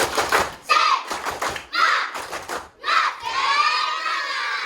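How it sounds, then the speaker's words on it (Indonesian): A class of schoolchildren performs the tepuk semangat chant, shouting together in bursts broken by short clapping pauses, then a long sustained cheer at the end. "Coba semuanya tepuk semangat."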